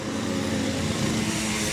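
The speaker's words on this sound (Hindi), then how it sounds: "जो अब आपने आवाज़ सुनी ना, वो साइकिल की आवाज़ थी।" A small motorized bicycle engine drones steadily at close range, a continuous buzzing hum with a low rumbling throb underneath.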